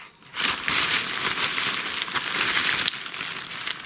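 A plastic bag holding silicone fishing lures crinkles and rustles continuously for a few seconds, close and fairly loud, with no talking.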